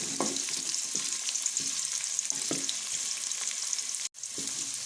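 Onions frying in a pan for dhaba-style moong dal, a steady close sizzle with occasional stirring scrapes and a brief dropout near the end, no voices.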